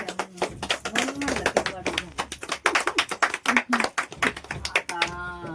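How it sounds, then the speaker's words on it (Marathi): Women at a village Sankranti gathering break into rapid, dense applause, many hands clapping close by amid lively voices talking and calling out. "टाळ्या वाजवा ह्यांच्यासाठी"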